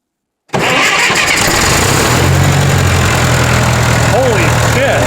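A 1966 John Deere tractor, sitting unused for years on an abandoned farm, cranks and catches, its engine settling into a loud, steady, rumbling idle that runs without a break right after a brief silence.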